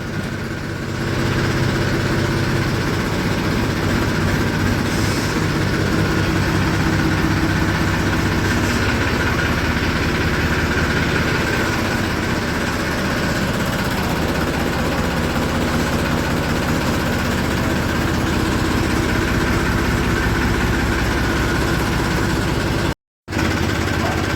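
A steady, low diesel tractor engine idles throughout, rumbling with a constant vibration and no voices, ending with a brief cut of silence.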